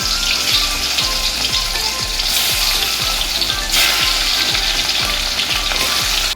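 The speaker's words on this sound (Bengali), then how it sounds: "এবার মাছগুলো ভেজে নেব।" Hilsa fish pieces fry in a pan with a loud, continuous sizzle and spatter, accompanied by rhythmic low thumps repeating roughly every half second.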